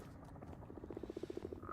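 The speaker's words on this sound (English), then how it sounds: "I can't attach this without letting these other frogs loose." Frogs croaking in the video game Minecraft, a quick rhythmic run of about ten low croaks in a row, fairly faint, with a brief higher game sound at the end.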